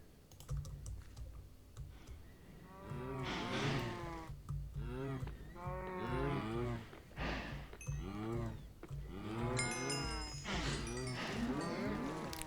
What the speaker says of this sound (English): Cows go moo, and moo goes cows.